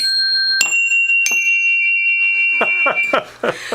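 Bright bell-like chime tones ring out one after another, each sustaining briefly, followed by a few quicker clanging hits.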